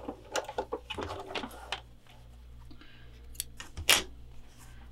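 A sewing machine stitches around cross-stitch fabric, including backstitching, in short bursts of close, rapid mechanical whirring and clicking, followed by quieter handling of the fabric and a sharp click near the end.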